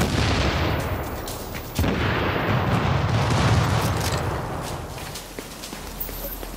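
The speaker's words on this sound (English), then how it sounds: "Grenade!" A heavy grenade blast in Tom Clancy's The Division hits with a deep, loud boom, followed by a long, rumbling decay that fades over several seconds.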